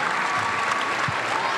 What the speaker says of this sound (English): Ladies and gentlemen, one last round of applause for Mr. Robert Parish.